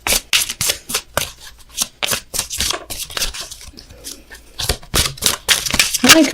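Tarot cards being shuffled and drawn, close and crisp, with rapid riffling bursts and slaps repeating unevenly throughout.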